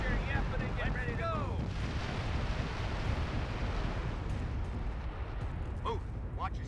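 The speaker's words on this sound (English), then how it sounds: "Let's just bombard over there" Artillery bombardment in the Company of Heroes strategy game, a continuous dense rumble of distant shelling and blasts throughout, with whistling incoming shells early on.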